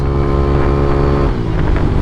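A Yamaha NMAX V1 motor scooter with a 63 bore, aftermarket ECU and no limiter, revs close by with a loud, steady engine drone that holds for two seconds with no talk over it.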